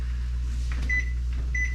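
A kitchen timer set for ten minutes while chicken and dumplings cook, giving two short, clear electronic beeps over the steady hum of an appliance.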